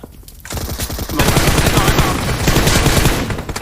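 Loud rapid automatic gunfire from PUBG Mobile on the Erangel map, a dense rattling burst that runs almost without pause after a brief quieter lead-in.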